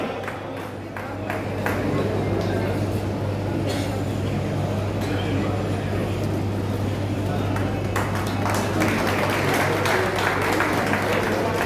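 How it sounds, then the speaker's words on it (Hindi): Audience applause at a Maithili cultural felicitation event, a broad wash of clapping that swells within the first two seconds and holds steady and fairly loud, with crowd murmur and a low steady hum beneath it. "जोरदार ताली हिनका।"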